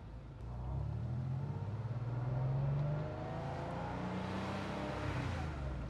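An air-cooled Porsche 911 3.2 Carrera engine, freshly fitted with upgraded fuel injectors, hums and rumbles steadily while driving on the road, swelling under throttle before settling into an even, smooth cruise, heard from inside the car without speech.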